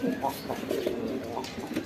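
Domestic pigeons in a home loft coo repeatedly at close range, a soft, throaty rolling rhythm with a faint background murmur.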